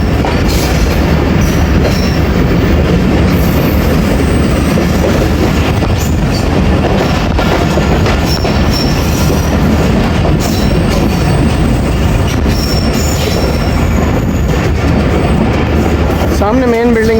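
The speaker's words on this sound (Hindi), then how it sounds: "रायवंड जंक्शन पहुंच रही है हमारी 38 डाउन बाबा फरीद एक्सप्रेस" The 38 Down Baba Fareed Express passenger train rolling into Raiwind Junction on a branch line, a loud continuous rumble of wheels on track with rhythmic clatter and a squeal near the end, with someone talking over it.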